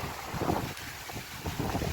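Strong gusty wind at a beach park at high tide buffets the microphone in a continuous rough roar, with the wash of waves beneath it.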